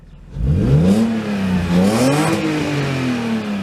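A Lexus IS300 cranks and starts after a battery replacement, then settles into a steady idle with the engine hum rising and wavering a little, loud and close.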